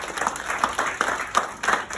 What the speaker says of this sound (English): Can we clap for everybody here?